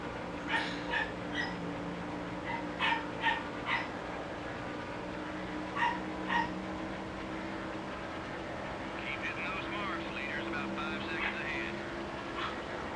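A house dog barks continuously in quick bursts of yips with brief pauses, moderately close over a steady low hum, while a voice murmurs faintly in the background.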